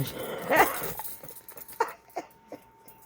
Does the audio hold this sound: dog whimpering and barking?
yes